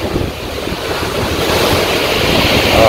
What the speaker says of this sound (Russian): А, волны.